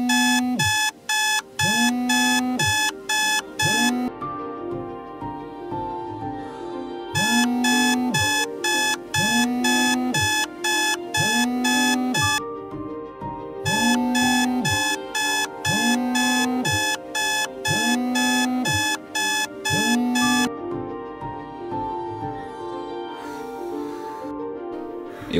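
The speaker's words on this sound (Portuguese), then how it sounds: "Todo dia o despertador toca às 6." Alarm clock ringing in repeated bursts, a rapid beeping pattern with a rising tonal sweep on each cycle, loud and close, stopping briefly between rounds and continuing for about 25 seconds.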